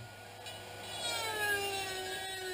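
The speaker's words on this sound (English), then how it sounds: "The most efficient way I found to remove this bushing is to use a small rotary tool like a Dremel." A small Dremel-style rotary tool grinds out a copper bushing from a Buell 1125 motorcycle fork, a steady high whine that climbs slightly in pitch and grows a bit louder, with no talking.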